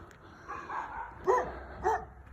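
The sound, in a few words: dog barking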